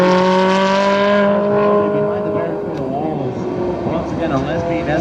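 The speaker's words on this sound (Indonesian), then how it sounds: "Widih, ada si mobil balap racing." A toy race car makes an electronic engine-revving sound, first a steady buzzing tone, then a rough revving roar that continues to the end, loud and close.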